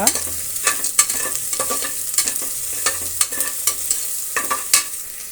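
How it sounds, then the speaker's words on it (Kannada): Ginger-garlic paste frying in oil for biryani, loud close sizzling with repeated spoon scrapes and taps against the pan in an uneven rhythm. "ಈಗ ನಾವು ಶುಂಠಿ ಬೆಳ್ಳುಳ್ಳಿ ಪೇಸ್ಟನ್ನು ಸೇರಿಸೋಣ ಅದು ಒಂದು ಸ್ವಲ್ಪ ಫ್ರೈ ಆಗಲಿ ಒಂದು ನಿಮಿಷ"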